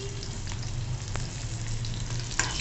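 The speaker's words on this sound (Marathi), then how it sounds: "शेंगदाणे चांगले खमंग करून घ्यायचे." Peanuts roasting in a pan, a soft steady frying hiss with a low hum underneath and a faint clink near the end, no speech.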